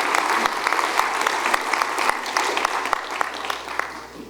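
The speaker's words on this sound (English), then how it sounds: "So we all can just give them a round of applause for all the work they've done." Conference audience applauding at a civil rights conference in Birmingham, a dense, steady wash of many hands clapping throughout, fairly loud and close with no talk over it.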